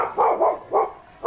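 Dog, a Golden Retriever, gives three or four quick close barks in a short burst, fairly loud with no speech over them.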